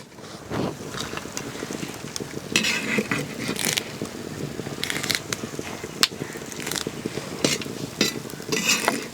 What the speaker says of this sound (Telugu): అలాగే ఎండుమిరపకాయలు కూడా వేస్తున్నాను